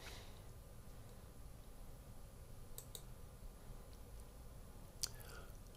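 A computer mouse clicks while navigating YouTube Creator Studio to add a branding logo watermark, giving a few soft, sharp clicks near 3 and 5 seconds over a quiet room hush.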